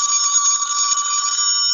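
Telephone ringing in a radio advertisement for an answering service, a steady electronic trill sustained loud and alone for under two seconds.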